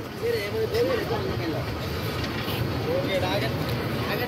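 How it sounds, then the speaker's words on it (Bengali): The Tista Express train rolls out of Islampur Bazar station with a steady low rumble and clatter heard from inside the carriage, while voices murmur faintly under the noise. "আমাদের ট্রেন ইসলামপুর বাজার রেল স্টেশন ছেড়ে দিয়েছে।"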